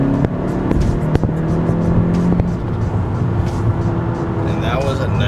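A lowered 2018 Honda Civic Si on D2 lowering springs accelerates hard, its engine note droning steadily from inside the cabin with road rumble throughout, while someone talks over it.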